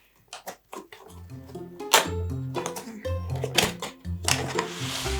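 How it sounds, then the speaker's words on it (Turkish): Cardboard box from a children's science kit being opened: a series of scraping, tearing and rustling handling sounds, close and uneven, with brief knocks and a burst of crinkling near the end. "Şimdi ikinci kutumuzu açalım"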